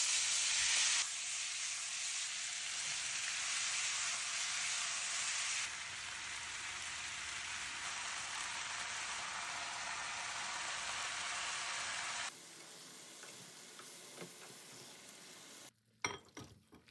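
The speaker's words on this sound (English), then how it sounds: "The first is to stir-fry our beef and veggies together." Beef and vegetables stir-frying in a big wok, a steady loud sizzle and hiss that drops in level partway through, then fades to quieter cooking noises with a few clanks near the end.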